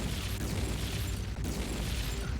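Explosions in the video game Metal Gear Acid 2, a dense continuous rumble of blasts and booms at moderate volume with no clear breaks.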